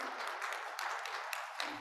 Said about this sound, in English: Can we give the choir a little round of applause and love today?